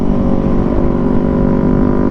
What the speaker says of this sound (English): The exhaust sounds so nice.